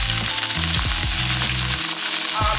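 Shrimp frying in a hot pan for shrimp fried rice, a loud close crackling sizzle with scraping stirring strokes across the pan.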